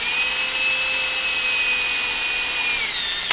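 A power drill bores a hole during work on a 12-volt test bench, giving a steady, loud, continuous high-pitched whine that holds evenly and shifts pitch slightly near the end as the bit finishes.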